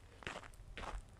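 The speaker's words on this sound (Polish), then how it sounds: "Mróz trzyma," Footsteps crunch on frozen, frosty ground, two quick crisp steps close to the microphone with no talking.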